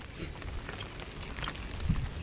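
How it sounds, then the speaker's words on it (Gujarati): Rain falling steadily outdoors, a soft continuous patter with scattered individual drops and a brief thump near the end, fairly faint and with no talking. "એવો વરસાદ આવે છે"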